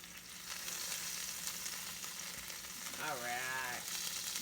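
Butter fries in a hot pan with a steady, crackling sizzle at close range, and a brief whining tone rises over it near the end.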